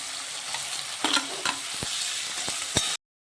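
Fried potato and pointed gourd pieces tipped into a sizzling pan with ground ginger, cumin, coriander and chillies for a prawn curry, giving a loud, dense, steady sizzle close by, broken by a few sharp stirring clatters.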